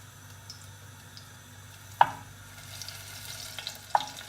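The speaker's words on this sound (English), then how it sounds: "I'll just let it sizzle, like so, so that the garlic really infuses the flavor into the oil" Garlic sizzles in hot oil in a home Chinese kitchen, a faint, steady frying hiss punctuated by a couple of sharp clicks or taps from utensils against the pan.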